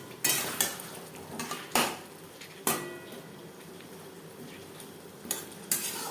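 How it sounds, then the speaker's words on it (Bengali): Potatoes stirred with spices in a pan for an alu-ilish jhol (hilsa curry) give a series of scraping, clinking utensil strokes against the pan at irregular intervals, fairly close, over a soft background hiss with no talking. "আলু বেশ ভালো করে মিক্সড করে দেবো।"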